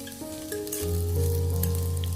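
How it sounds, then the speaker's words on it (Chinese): Onions stir-fry in a little hot oil in a clay pot. A loud, close sizzle swells and carries steadily, with a low humming drone stepping up beneath it. "把洋葱给它放进来翻炒一下，把洋葱炒香炒熟"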